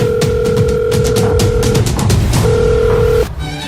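A telephone ring tone sounds twice in steady bursts, loud and close, then cuts off abruptly.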